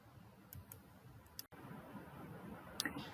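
A computer mouse clicks on a Close button, giving a few faint, sharp, isolated clicks spaced irregularly over quiet room tone.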